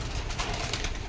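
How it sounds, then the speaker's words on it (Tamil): Pigeons in a home garden with a well, their soft cooing blending into steady rustling ambience throughout, close and moderately loud with no voices. "எல்லா புறாவும் இருக்குது. புறா வந்து பறக்குது."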